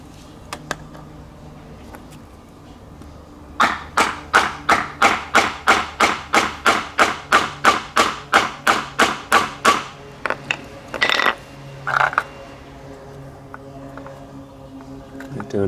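A hard disk drive is struck repeatedly to destroy its platters, a fast, even run of about twenty sharp, close hits followed by a few scattered knocks, over low background hum.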